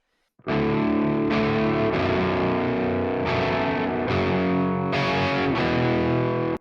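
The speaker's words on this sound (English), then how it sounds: "So we've got a reverb, we've got a delay." Heavily distorted electric guitar through a Quad Cortex with reverb and delay plays sustained chords for a metalcore tone, loud and alone, several changes ringing into one another.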